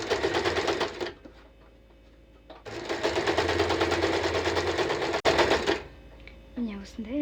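Sewing machine stitching along the 1 mm folded hem of a headscarf, running in loud bursts of rapid, even stitching broken by short pauses, alone with no talk.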